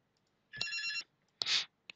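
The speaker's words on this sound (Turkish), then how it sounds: "Telefon geldi" Telephone ringing during a lecture, two short electronic ring bursts with a sharp tonal warble separated by a brief pause, fairly close and clear against a quiet room.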